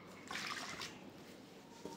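Warm water being poured into a bowl of yeast and sugar for corn dog batter, a soft splashing trickle lasting about a second and a half, close and moderately quiet.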